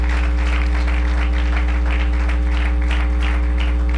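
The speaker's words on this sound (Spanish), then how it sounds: "Denle un aplauso" A church congregation applauding, a rippling spread of many hands heard over a strong, steady low electrical hum.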